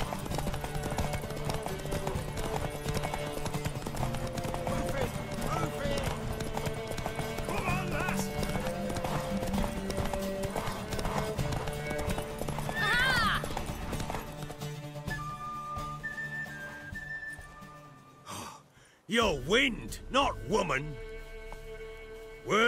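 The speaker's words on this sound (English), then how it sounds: "Want that horse, don't ya?" Steady clip-clop of horse hooves with background music in The Witcher 3 video game, then a horse neighs loudly near the end.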